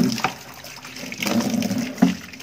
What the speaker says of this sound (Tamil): இப்போ தண்ணி வச்சு நல்லா வாஷ் பண்ணிடலாம்.